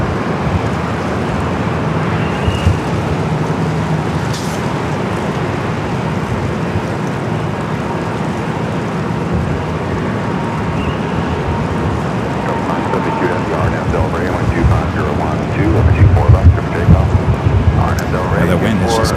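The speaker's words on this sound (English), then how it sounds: "The wind is just crazy. It's just coming from all different directions." Strong, gusty wind buffets a microphone outdoors at Los Angeles International Airport, a steady broadband roar that swells and surges in loud bursts, with deeper rumbling gusts near the end.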